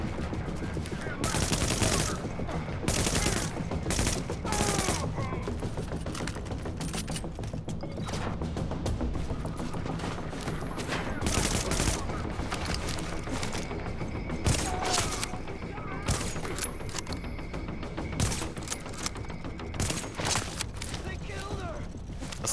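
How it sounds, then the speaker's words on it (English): Rapid gunfire from the video game Tom Clancy's The Division: dense bursts of automatic weapon shots and mechanical clatter keep up for the whole stretch, loud and close, with a voice talking beneath parts of it. "The guns sound realistic and impactful"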